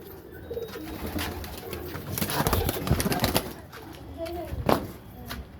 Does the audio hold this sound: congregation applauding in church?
no